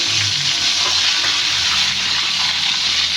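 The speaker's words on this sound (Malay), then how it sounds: "Lepas tu goreng dalam minyak yang panas sampai dia matang sempurna." Loud, steady sizzling and crackling of chicken frying in hot oil, continuous and close, with no talking.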